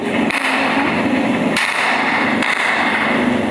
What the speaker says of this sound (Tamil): ஏயா வெடிச்சிருச்சு.